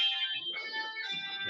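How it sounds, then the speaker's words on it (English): A mobile phone rings in a racing studio with an alarm-like electronic tone, loud and close, in two or three pulsing bursts of steady high tones with short breaks between. "Someone's phone just went off."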